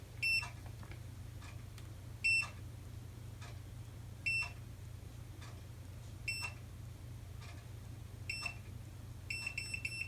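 An automatic curling iron's timer gives a regular series of short, high electronic beeps about once every two seconds over a steady low hum, ending in a quicker cluster of beeps.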